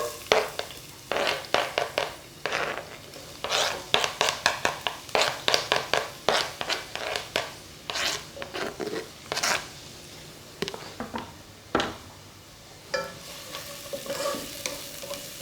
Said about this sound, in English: Okay, let me add my onions.